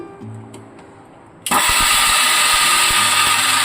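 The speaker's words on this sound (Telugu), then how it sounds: "కలిపి మిక్సీ వేసేసుకుందాము" After a quiet moment, a mixer grinder switches on abruptly and runs loud and steady, grinding lentils into idli spice powder, a harsh motor whir filling the rest of the clip.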